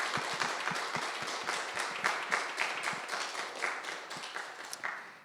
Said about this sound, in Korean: 우리 영광의 박수를 힘차게 한번 드리신 후에 예배를 시작하겠습니다